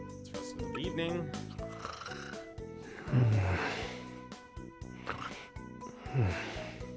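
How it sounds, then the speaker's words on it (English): Cartoonish snores from Trials of Mana characters resting at an inn, in two low, drawn-out descending rumbles about three seconds apart over soft tonal background music. "I'm gonna be hearing everyone snoring now"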